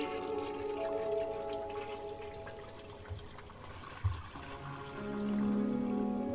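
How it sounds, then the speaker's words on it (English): Toilet flushing in a dark bathroom in the horror video game Darkness Within, a soft rushing pour and trickle of water that swells toward the end, heard alone at low level. "Okay, toilet flushing."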